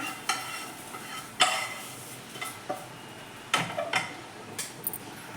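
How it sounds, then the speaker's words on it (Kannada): Coriander leaves frying in a pan for a coastal-style chicken curry, with a steady sizzle broken by several sharp scraping stirs of a utensil against the pan, close and without speech. "ಕೊತ್ತಂಬರಿ ಸೊಪ್ಪು ಕೂಡ ಹಾಕೋತಾ ಇದ್ದೀನಿ ನೋಡಿ ಈ ಥರ ಚೆನ್ನಾಗಿ ಫ್ರೈ ಆದಮೇಲೆ"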